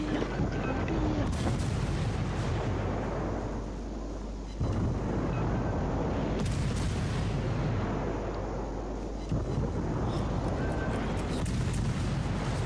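Warship main-battery salvos in the World of Warships naval game, three heavy booming volleys spaced a few seconds apart, each with a rolling decay, loud and close.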